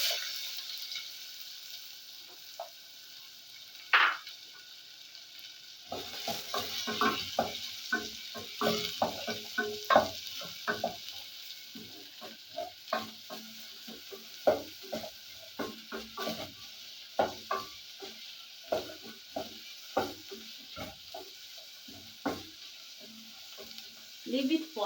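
Chopped onions fry in hot oil for a spicy egg stew, a quiet hiss at first and then a steady sizzle broken by repeated scraping and knocking as a utensil stirs them in the pan, with no speech.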